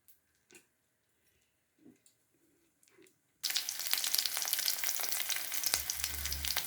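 A few soft taps, then a sudden loud burst of sizzling and crackling as seeds hit hot oil, continuing steadily.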